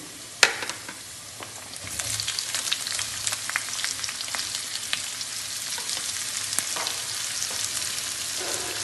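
Chopped onions frying in a hot pan for a Kerala-style liver fry, a steady crackling sizzle with a sharp clatter near the start and occasional spatters, close and alone with no talk.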